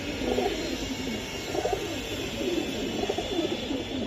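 Pigeons cooing at a pigeon sale, several birds giving repeated soft throaty coos close by, overlapping in a continuous rhythm over a low background hum.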